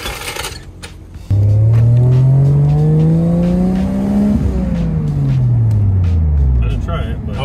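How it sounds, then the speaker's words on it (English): A turbocharged Toyota Chaser with a new 1JZ engine revs hard and loud up close, pitch climbing then falling as it comes off throttle, with a wastegate release among the engine roar. "There we go, there's the wastegate."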